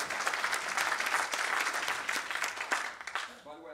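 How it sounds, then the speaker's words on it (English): An audience at an academic talk on faculty-student research breaks into brisk applause, dense clapping holding steady for a few seconds before thinning out near the end. "So could we have a little applause?"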